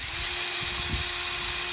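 A power drill bores a hole in a lamp part, giving a continuous, loud, even whine with a steady hum underneath and no talking.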